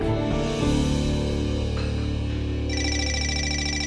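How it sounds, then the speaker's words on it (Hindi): An electronic telephone ringtone chirps in a repeating pattern over background music, with no talking. "फोन बज रहा है, जरा देखो कौन है।"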